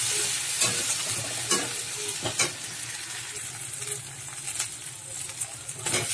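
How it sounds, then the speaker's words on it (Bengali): Ginger garlic paste and onion frying in a pan, a steady close sizzle broken by scraping stirring strokes, with faint birdsong in the background. "আদা রসুন বাটাটা একটু পেঁয়াজের সাথে একটুখানি নেড়ে নিচ্ছি"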